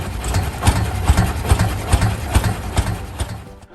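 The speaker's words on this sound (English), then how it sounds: "The echoing engine sounds from the OilPull still make machinery enthusiasts emotional." A Rumely OilPull antique tractor engine runs steadily, its slow, heavy beats thudding in an even rhythm, loud and close with no talk over it.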